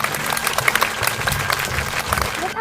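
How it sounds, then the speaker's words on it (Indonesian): A group of people clapping loudly and steadily, with voices mingled in the applause. "tepuk tangan"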